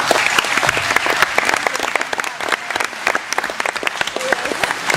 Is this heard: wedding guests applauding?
yes